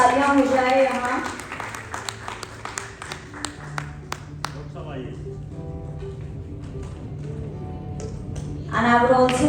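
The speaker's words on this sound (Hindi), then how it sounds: "जोरदार तालियां हो जाए यहाँ।" At an excellence awards ceremony, a voice speaks at the start before audience applause rises, with scattered, fairly close hand claps through the middle. Louder clapping returns near the end under more talk.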